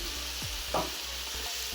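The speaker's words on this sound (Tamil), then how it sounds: "தக்காளி கொஞ்சம் வதங்கட்டும்." Tomatoes sauté in a pan for a Jaffna-style banana flower fry, giving a soft, steady sizzle with a brief clink or stir partway through, with no talking.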